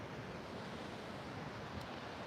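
Steady broadband wash of ocean surf along the San Diego oceanfront, continuous and moderately loud with some wind noise on the microphone and no voices.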